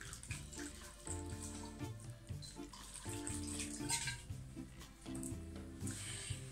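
Water is poured from a tap into a pot of frozen courgettes for a garlic and herb courgette soup. The splashing runs close and continuous, with a few shifts in its pitch.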